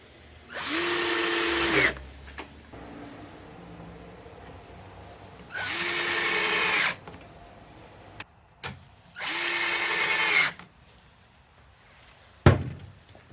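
A power drill drives screws to fasten wheels onto a homemade wooden easel, two screws per wheel: three loud whirring bursts of about a second each with pauses between, close up, followed by a sharp knock.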